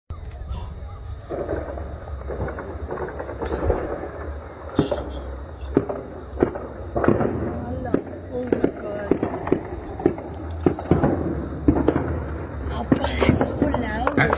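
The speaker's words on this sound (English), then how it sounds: "That's heavy artillery being fired." Heavy artillery fires repeatedly, with scattered sharp booms and cracks, some distant and some nearer, over a steady rumble and under ongoing voices.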